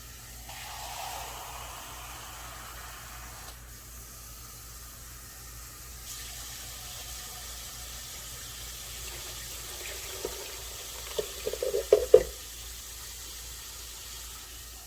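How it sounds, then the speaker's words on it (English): Kitchen tap water running into a measuring cup to fill three cups for beef and cheese enchiladas, a steady soft hiss with a few louder splashing bursts near the end, no talking. "Then let me get my 3 cups of water."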